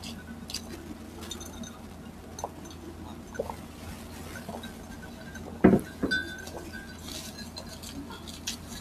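Glasses clink in a toast during a Filipino food mukbang: a few light, scattered taps lead up to one brighter, louder clink, all over a quiet indoor background.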